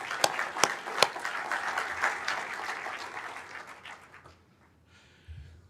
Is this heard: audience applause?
yes